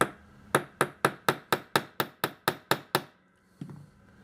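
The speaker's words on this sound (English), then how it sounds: "I'm going to use my hammer and I'm going to tap onto" A small hammer taps a Rolex watch part eleven times, seating a new oscillating weight axle, in a steady, even rhythm, sharp close strikes, followed by a pause and one softer thud.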